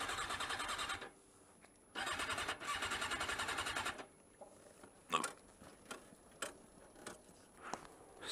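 Motorcycle being started, with two bursts of loud cranking, one after the other, then a few short sputtering knocks and bumps as the engine struggles to catch, near and alone.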